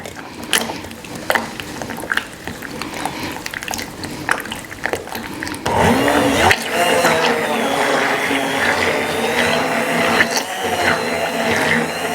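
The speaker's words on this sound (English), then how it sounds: "we're using immersion blender." An immersion blender whirs with a steady motor hum, churning melting chocolate ganache for macarons after some clattering, loud and close, running continuously to the end.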